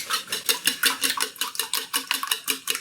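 Six eggs whisked in a bowl for a spinach and feta quiche: a quick, even train of metallic clicks and swishes, roughly five strokes a second, close and moderately loud.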